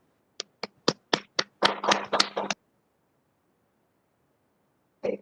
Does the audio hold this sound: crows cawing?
no